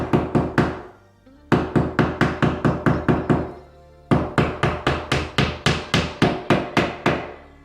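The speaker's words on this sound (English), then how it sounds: "let's go ahead and sink a drywall anchor on this side" A hammer drives a drywall anchor into a wall in rapid, sharp, close knocks. The blows come in three quick bursts separated by short pauses, loud and ringing, with no talking.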